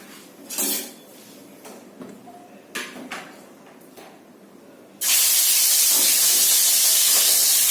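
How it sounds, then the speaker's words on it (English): Quiet kitchen clatter and faint hissing, then a sudden loud, steady sizzle of fish frying in hot oil that continues to the end. "So the oil is ready. I'll just start frying the fish."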